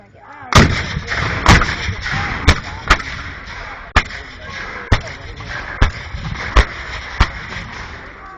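Cannons boom in a battle reenactment, about nine loud sharp blasts at irregular intervals of roughly a second, each with a short rumbling decay, while people talk faintly in between.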